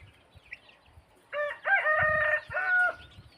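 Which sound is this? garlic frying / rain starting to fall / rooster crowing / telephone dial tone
rooster crowing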